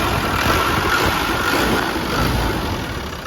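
A 1997 Land Rover Defender 110 with a 300Tdi diesel engine idles close by, its steady, loud rumble holding even throughout with no revving.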